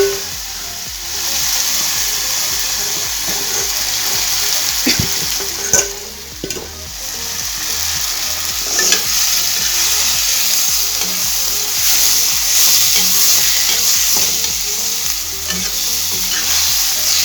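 Taro fries in a pan while being stirred. A loud, continuous close sizzle is broken by occasional scraping and clanking strokes of a spatula against the pan.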